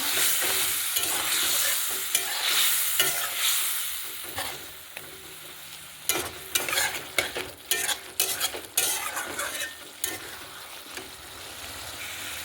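Fried soybean chunks stir-fried with salt in a pan: a hissing sizzle with repeated scraping strokes that grow sharper and more frequent toward the end.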